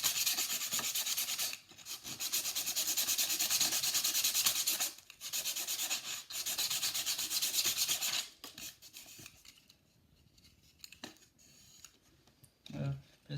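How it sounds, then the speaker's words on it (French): Close, steady rasping of sandpaper on a model roof, in long continuous strokes with short pauses, then quieter intermittent rubbing toward the end. "Maintenant vous allez venir mettre un énorme ponçage dessus"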